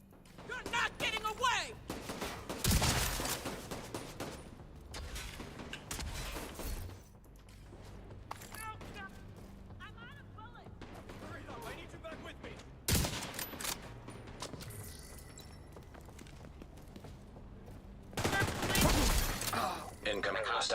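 Enemy gunfire in The Division during a PVE fight, sharp bursts and volleys that flare loudly around 1 to 3 seconds, again near 13 seconds and near 19 seconds, with quieter combat noise between them.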